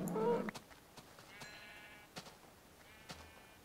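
A sheep bleating in a video game, one loud, close, wavering bleat at the start followed by faint clicks and soft game sounds, with no talk.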